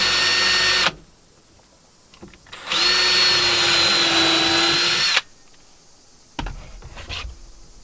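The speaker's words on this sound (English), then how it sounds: "So we're going to pre-drill these." Power drill pre-drilling holes in wood cabin siding, two loud sustained whining bursts of a few seconds each, separated by quiet handling noises, with a shorter third burst starting at the end.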